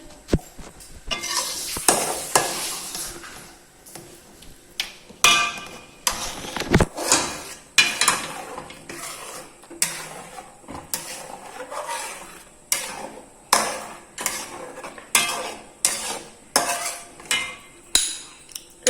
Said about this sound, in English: Let's now mix it.